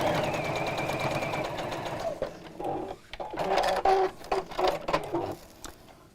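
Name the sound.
sewing machine stitching Maddy Caddy fabric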